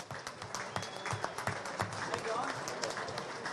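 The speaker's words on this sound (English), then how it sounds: "How about a big round of applause?" An audience at Plainville Stadium applauds a race driver being introduced, a busy crowd clapping that builds and holds throughout, mixed with voices.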